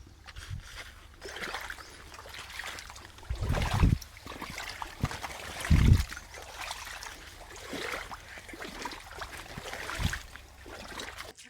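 Well water for irrigation trickles and sloshes along freshly cut channels into the beds of a farm field near a sorghum crop, with a soft steady flow broken by a few heavier splashes and thumps.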